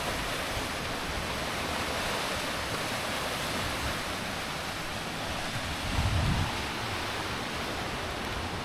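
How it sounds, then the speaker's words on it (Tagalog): Sea waves wash against the shore beside the Old Church ruins in Camiguin, a continuous broad hissing roar with a slightly louder surge near the end. The sound is steady and enveloping, with no voices. "eto yung katabing dagat ng ruins ng Old Church dito sa"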